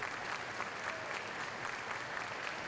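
Faint, distant crowd at an LSU baseball game, a steady wash of clapping and cheering murmuring at low level throughout.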